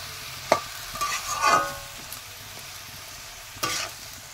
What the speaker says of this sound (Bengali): এবার আমি এই লঙ্কা, লবণ আর হলুদ দিয়েছি, এটা আমি সবজির সাথে মিশিয়ে নেব।